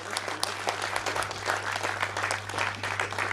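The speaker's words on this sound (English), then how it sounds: "So a big round of applause for her." An audience at an IFFI 2018 film festival panel with women directors from Indian cinema claps. The applause is dense and continuous, holding a steady level throughout.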